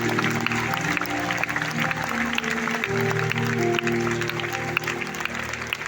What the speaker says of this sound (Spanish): ¿Cuánto dan ese aplauso a Jesús?